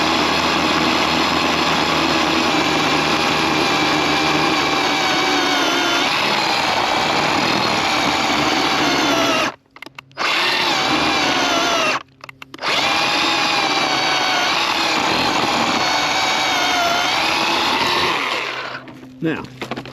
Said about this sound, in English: that is really too big of a log for this small of a chainsaw